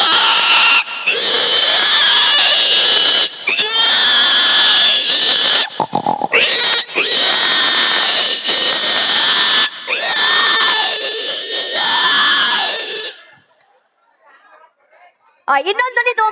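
A performer's voice imitates pigs squabbling over swill, with loud, continuous grunting squeals. It breaks off into near silence, then returns with a short final burst.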